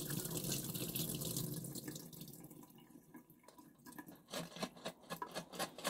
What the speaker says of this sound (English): turn it upside down and drain the water out